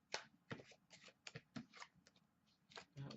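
Rapid riffling tarot card shuffles, several quick papery bursts close by, with brief pauses between them.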